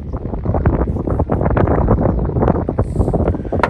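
Steady wind on the Eel River in Northern California roars and buffets the microphone throughout, a continuous rough rush with no pauses.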